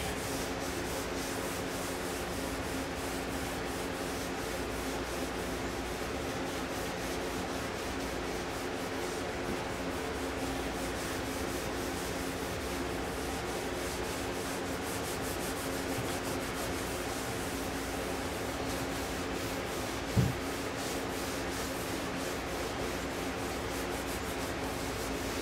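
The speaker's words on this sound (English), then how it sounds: "Take an old sock here that's nice and clean. Give it its first rub out." Steady, continuous rubbing as an old clean sock works wax finish into wood, a dry even swishing texture that holds for the whole stretch, with a single small knock near the end and no talk.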